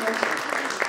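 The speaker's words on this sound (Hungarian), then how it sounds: "ez egy nagy tapsot érdemel" Crowd applause at a charity gala evening, a dense patter of many hands clapping at a moderate distance, steady throughout.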